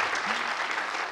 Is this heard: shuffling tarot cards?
no